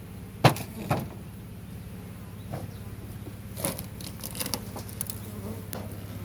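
Honey bees buzz steadily around an open hive during a spring inspection of the colonies, a constant close drone with a few soft knocks and clicks from handling the frames.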